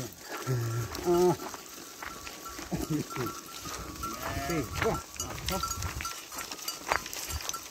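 Sheep and goats bleating near a pen while being taken out to the forest, several short wavering bleats scattered through the stretch alongside people talking.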